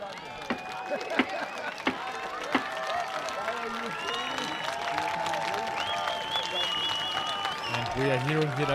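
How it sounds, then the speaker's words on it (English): Crowd cheering for Denmark at the Medieval Combat World Championships in Denmark, a steady roar of many voices with scattered claps and shouts, rising slightly toward the end; an announcer's voice is heard over it. "We are hearing here the crowd cheering up for Denmark."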